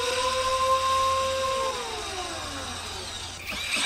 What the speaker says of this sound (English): And now a pilot hole for the screw.